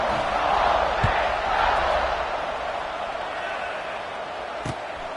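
Stadium crowd in the NCAA 26 college football video game, a steady, loud roar of cheering that fills the whole stretch, with a couple of brief thumps rising from the wash.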